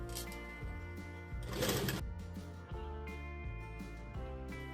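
A sewing machine stitching a princess-cut blouse, a steady mechanical hum broken into bursts of running stitches with brief pauses and a louder rattle in the middle, and no talking.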